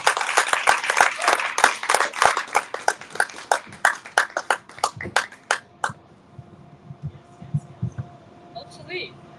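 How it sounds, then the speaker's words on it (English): A modest audience claps for a poet at a young professionals' gathering; the distinct claps start brisk and thin out to scattered single claps, then stop as voices begin talking. "Please give another and final round of applause for Serena."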